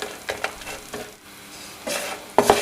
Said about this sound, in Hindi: थोड़ी हल्की आंच पे इनको आपने रोस्ट करना है